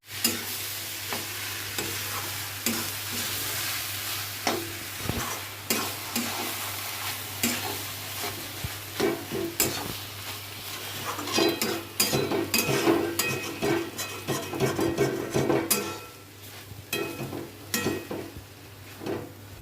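Soybean chunks are stir-fried in a pan: a constant loud sizzle with repeated scraping and clinking stirs, growing busier and more rapid toward the end.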